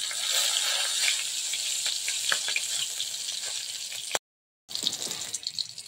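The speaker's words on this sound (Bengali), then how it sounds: "এখানে ফোড়ন হিসেবে দিচ্ছি ছোট্ট দুটো কাঁচা লঙ্কা কেটে নিয়েছি আর একটুখানি জিরে" Chopped green chillies and cumin seeds hiss and crackle in hot oil as a tempering for a Bengali bhola fish curry. The sizzle is steady and bright, then cuts out briefly before resuming.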